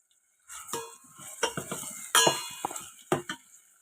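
A spoon stirs buttermilk soup with curry leaves and turmeric in a pot, producing close metallic clinks and scraping strokes in a short irregular sequence after a moment of silence.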